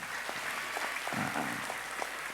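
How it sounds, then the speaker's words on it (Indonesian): Applause for Abah Sulaiman at a religious gathering in a mosque, a soft, steady wash of many hands clapping from a crowd, fairly faint and continuous throughout. "Tepuk tangan buat Abah Sulaiman."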